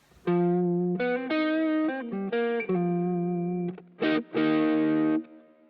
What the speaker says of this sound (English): As for distortion, I use the OCD, set mildly.